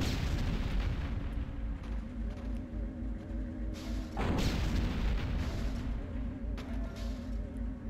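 Military gunfire and a heavy boom from the Destroy All Humans video game, with sustained crackling fire, a loud blast near the midpoint and scattered sharper shots after it.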